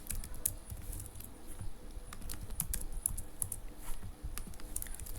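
Quiet, brisk keystrokes patter across a computer keyboard as C++ code is typed, an uneven run of soft clicks over a faint background hiss.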